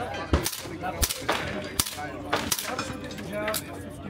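Suppressed gunfire cracks at an outdoor shooting range, with several sharp, separated reports spaced about a second apart over background chatter and voices.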